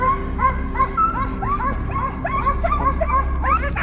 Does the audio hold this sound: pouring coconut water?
no